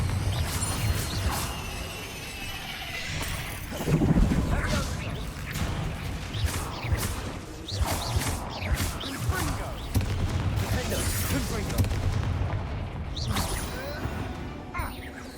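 Blasting spell impacts and whooshes in Hogwarts Legacy combat against Ranrock's loyalists, with a strong thump near the four-second mark amid repeated swishes, crashes and clattering effects over busy game sound.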